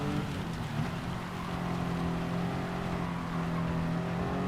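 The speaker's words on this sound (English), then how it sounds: "I can hear that turbo spooling and that just terrifies the life out of me." A race car runs in heavy rain, its engine droning steadily with a rising turbo whine over a constant wash of rain and spray, close and loud throughout.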